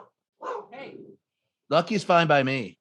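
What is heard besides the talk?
dog barking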